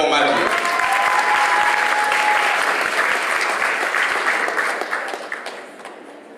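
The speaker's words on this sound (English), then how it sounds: "Clap for Matthew." A pageant audience applauds for the third runner-up, Matthew, a full, close burst of clapping that stays strong for a few seconds and then fades away.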